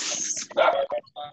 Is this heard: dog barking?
yes